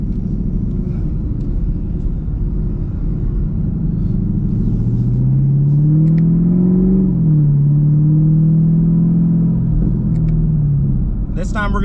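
Supercharged car engine with a ProCharger tune pulling hard at wide open throttle in third gear, a loud close rumbling roar that rises steadily in pitch, dips at a shift, then climbs again.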